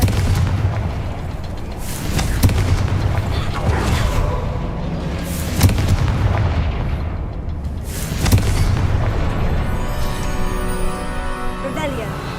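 Booming blasts from the Confringo fire spell in Hogwarts Legacy, several loud impacts spaced a few seconds apart over dense game ambience and music.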